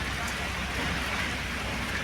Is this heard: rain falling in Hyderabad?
yes